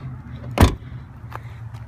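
A premium-class 2014 car's trunk pops open after its release button is pressed: one short, sharp latch clunk, near and fairly loud, with a faint second click a moment later over a low steady hum.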